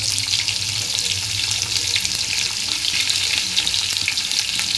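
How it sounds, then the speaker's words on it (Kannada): Long-sliced onions fry in a pot of oil for chicken biryani, giving a steady, dense, close sizzle and crackle with some stirring and no speech. "ಇದನ್ನು ಗೋಲ್ಡನ್ ಬ್ರೌನ್ ಬರೋ ತನಕ ನಾವು ಫ್ರೈ ಮಾಡಬೇಕು."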